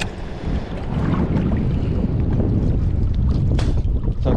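Strong wind blasts across open water on a muddy late-winter fishing outing, a loud, continuous rushing roar buffeting the microphone with no talk.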